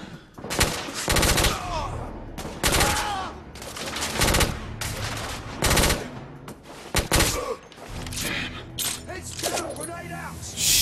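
Heavy gunfire in The Order: 1886, with loud machine-gun bursts and repeated shots pounding close by in rapid runs broken by short pauses, while voices shout over the shooting.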